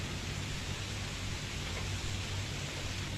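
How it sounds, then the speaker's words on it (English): Steady, dense hiss of rain falling continuously, even and unbroken throughout, with no voices. "Rain."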